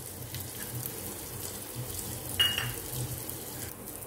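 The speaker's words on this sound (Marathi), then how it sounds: "त्यामध्ये आपण सर्व ड्रायफ्रूट असे फ्राय करून घेऊया" Dried fruits frying in oil in a pan while making sweet coconut rice, a soft steady sizzle close by with a brief clink partway through, no talk.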